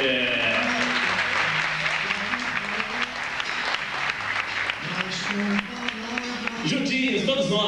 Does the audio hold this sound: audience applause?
yes